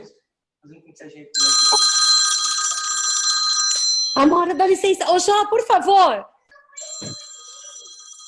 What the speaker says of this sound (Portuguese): Desliga o som aí do telefone. É um telefone.